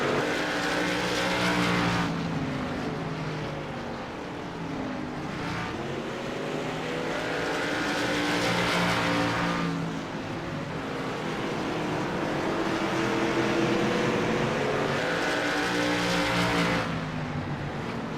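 Race cars roar around a track during a televised race, a dense continuous engine drone swelling and fading in long waves as the pack passes, loud and steady throughout.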